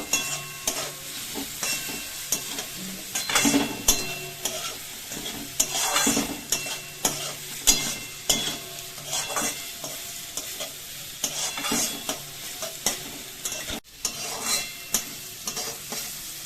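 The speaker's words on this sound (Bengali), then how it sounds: "নুনটা দিয়ে ভালো করে নাড়িয়ে নেব" Grated beetroot and carrot fry in a pan with salt while being stirred vigorously, producing close, rhythmic scraping and clattering over a constant sizzle.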